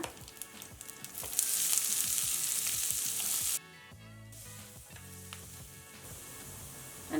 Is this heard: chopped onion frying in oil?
yes